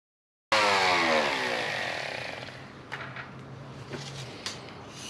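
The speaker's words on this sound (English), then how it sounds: "I'm just going to come in with a sander and" A power sander bursts on at full volume against the cut edge of a cabinet panel for a pull-out pantry, then whirs on in a steady buzz that slowly eases, with a few knocks and scuffs toward the end.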